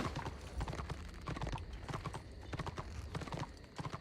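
Horse hooves clip-clop in a steady, brisk rhythm in the fantasy game Warhammer Online, moderately loud and close, with faint clicking in the background.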